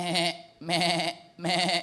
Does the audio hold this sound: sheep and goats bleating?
yes